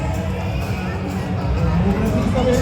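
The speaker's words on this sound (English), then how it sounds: "Keep cheering, folks." A crowd at a live game event keeps up a steady, dense roar of cheering and chatter, loud and continuous throughout, with mixed voices swelling slightly toward the end.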